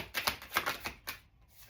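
Playing cards riffle in quick, soft, rapid bursts, close and fairly quiet, for about a second before fading out.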